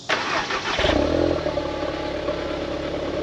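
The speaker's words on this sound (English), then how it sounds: "This is a cold startup on a 2016 Audi TT" A 2016 Audi TT cold-starts with a short starter crank, then catches and settles into a loud, steady idle with a throbbing low rumble that continues to the end.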